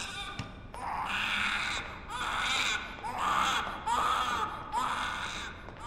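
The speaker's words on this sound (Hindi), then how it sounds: "उधर बच्चा रो रहा है" A baby cries in a hospital ward in repeated, close, high-pitched wailing bursts, about five in a row, with brief breaths between them.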